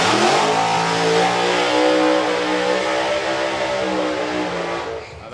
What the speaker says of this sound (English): Big burnout there actually